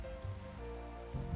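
Steady rain falls in the colony-building game RimWorld, a soft continuous patter heard alone without any talking, with a faint low hum and a brief swell in the sound toward the end.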